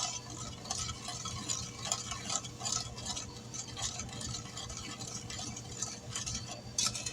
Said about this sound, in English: I'm going to stir a little bit more.